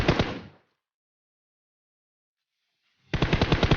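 Automatic rifle fire in a battle royale shooter comes as a short rapid burst, then about two and a half seconds of silence, then another fast burst of loud, close shots.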